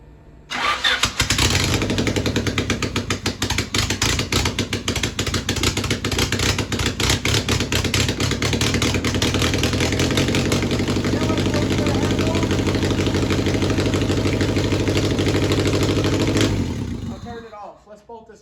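A race car engine fires up and runs loud and steady for about sixteen seconds with a rough, raspy exhaust, then shuts off and winds down, with people talking over it.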